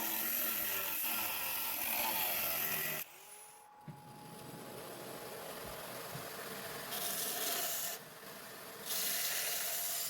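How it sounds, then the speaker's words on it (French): A belt grinder with grit 40 and 80 belts profiles a VG10 67-layer utility knife blade in steady abrasive rasping passes that pause and restart several times, close by. "On poursuit la réalisation du profil, d'abord en ébavurant, puis ensuite en se rapprochant du trait finement avec une bande de grain 40 puis 80"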